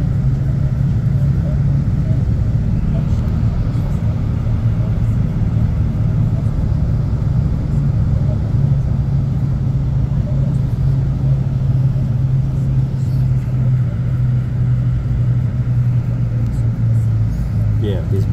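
An intercity bus runs along the highway from Sao Paulo to Rio de Janeiro, a steady loud engine and road rumble that holds throughout with no breaks, heard from inside the cabin.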